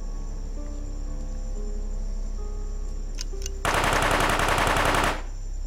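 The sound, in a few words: submachine gun fire in the video game UFO: Aftermath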